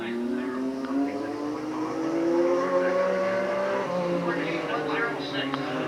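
Buick modified race car on a qualifying lap at Riverside Park Speedway, its engine note rising and falling as it works through the laps, with some tire squeal. A commentator talks over it throughout.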